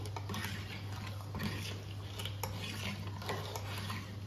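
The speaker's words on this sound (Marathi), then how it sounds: "आता आपण ह्याच्या गुठळ्या न होता ह्याला मिक्स करणार आहोत" Stirring a Veg Manchurian gravy mixture in a pot, repeated rhythmic scraping and clinking of a utensil over a steady low hum, close and fairly quiet with no talking.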